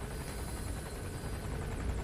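A helicopter hovers nearby in Metal Gear Solid 5, a steady, dense rotor and engine drone that holds at an even loudness throughout, with no talking.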